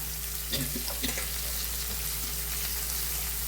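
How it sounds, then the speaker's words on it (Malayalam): Green chilli and ginger sautéing in a pan for a semolina upma, a dense, steady sizzle with a few light stirring taps early on over a constant low hum. "ഇനി ഇതൊക്കെ ഒന്ന് വഴറ്റി സെറ്റായിട്ട് വരട്ടെ"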